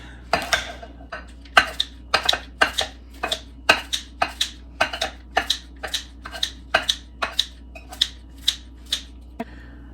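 Food being chopped in a big bowl, a steady series of sharp knife clacks repeating roughly twice a second, close and clear against a faint low hum.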